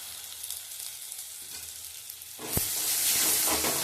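Tomatoes sautéing in a hot pan as salt is added, a soft sizzle that jumps to a loud, bright hiss after a sharp knock, then holds steady and close.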